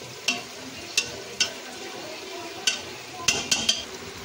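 Chicken dal mash frying in a pan with a continuous soft sizzle, punctuated by about seven sharp metallic knocks of a spoon stirring against the pan, irregularly spaced and fairly close.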